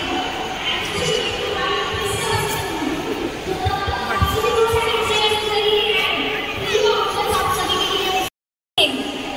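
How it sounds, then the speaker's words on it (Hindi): A large, dense crowd murmurs and chatters continuously at a lively event, a close, loud wash of overlapping voices that cuts out briefly near the end. "बहुत ज़्यादा भीड़ है"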